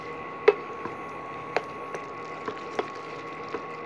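Cooked pav bhaji vegetables are mixed with pav bhaji masala in a pressure cooker, giving soft, wet squelches every half second or so in an otherwise quiet kitchen.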